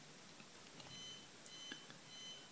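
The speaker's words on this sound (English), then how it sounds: "my disk station is beeping away in the next room" A Synology DiskStation NAS beeps from the next room after its Find Me function is triggered, a few faint thin electronic tones sounding distant over quiet room noise.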